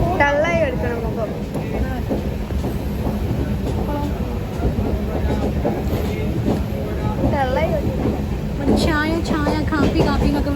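Inside a moving passenger train, a constant low rumble and rattle of the carriage runs throughout while people talk close by over it.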